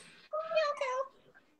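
A single drawn-out, wavering cat meow, close and clear against a quiet room, lasting about a second before trailing off.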